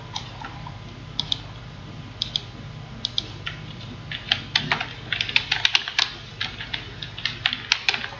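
Fast, uneven bursts of typing on a computer keyboard at close range, clicks coming in irregular clusters over a low steady hum, growing busier toward the end, with no one speaking.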